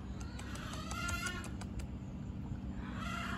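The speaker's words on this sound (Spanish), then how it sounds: "Mire cómo han crecido esos gallos." Large, tall roosters on a farm cluck in a quick run of short, clipped calls over a steady low background hum, fairly close and with no talking.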